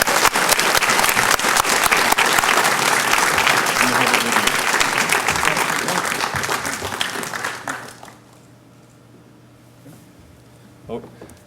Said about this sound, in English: Please join me, all of you, in a round of applause to thank Chris for all he has done.